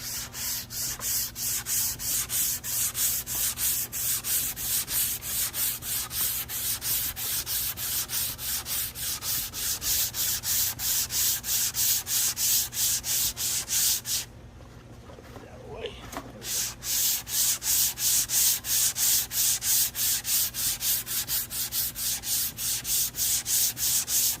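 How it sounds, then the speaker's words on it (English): Hand sander working a wood board along the grain, a steady rhythmic rasping scrub that continues loud and close, with a brief pause partway through before resuming. "Now I'll come back with my hand sander and I'll go the direction of the grain."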